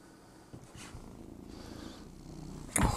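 A cat purrs close by in a low, steady rumble that carries through the whole moment, with a sharper rustle or knock near the end.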